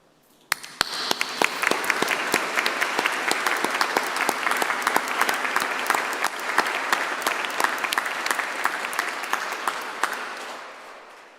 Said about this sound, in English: big round of applause for all your fellow graduands who are online today